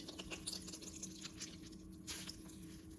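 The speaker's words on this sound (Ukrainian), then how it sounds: "Ось так, віджимаю воду" Soaked, hot bread squeezed by hand to press the water out, giving soft wet squishes and a few drips, close up and quiet, with no talking.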